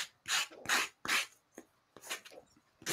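Wood being sanded by hand in rhythmic strokes, a close, rough rasping that repeats back and forth with brief pauses.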